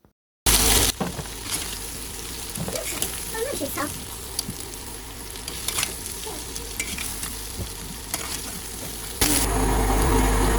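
Ingredients fry in a pot on a village stove, with a continuous loud sizzle, repeated stirring scrapes and knocks, and a brief surge of spitting near the end.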